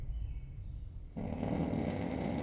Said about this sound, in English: I heard snoring, and he's asleep right now